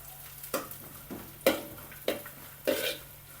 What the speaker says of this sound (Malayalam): ഇത് നല്ല ചുമക്കനെ വറുത്തെടുക്കണം